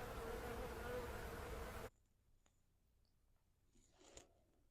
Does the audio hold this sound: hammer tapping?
no